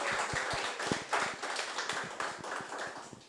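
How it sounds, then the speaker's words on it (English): A conference audience at a Japan real estate summit claps for the event organizers, a scattered, moderately loud patter of hand claps with a few sharper close claps standing out. "let's give everybody a round of applause"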